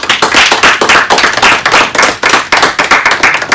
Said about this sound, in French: Donc on l'applaudit tout le monde, s'il vous plaît.